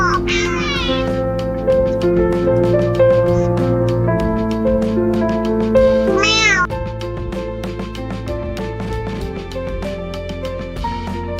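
A small kitten meows loudly and close, several rising cries in a row, with a person softly imitating the meows in between.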